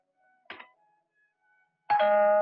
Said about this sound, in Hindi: मगर तुमने ये घंटी कैसे बजाई?